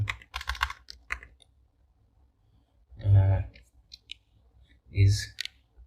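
Computer keyboard typing while entering Objective-C code for an iOS app: clustered clicking keystrokes at the start and in short bursts, alternating with quiet gaps and brief low, breathy sounds.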